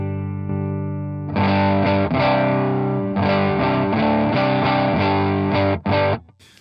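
An electric guitar plays through a Helix 3.6 amp preset with its overdrive section switched on, giving loud, distorted chords strummed in short bursts with brief pauses between them, with no talking.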